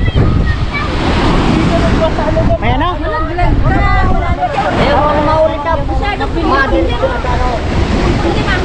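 Sea waves and wind along a beach on a Bicol coastal outing fill the background as a steady, loud wash of surf and wind noise, heard under continuous nearby talking.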